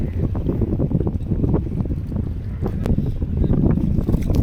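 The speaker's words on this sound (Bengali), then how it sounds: "তোমরা দেখতেই পাচ্ছ লঞ্চ চলে এসছে বজবজ ফেরিঘাটে" A ferry launch on the Hooghly River arrives at Budge Budge ghat from Bauria, with a loud, steady low engine rumble mixed with continuous wind buffeting on the microphone.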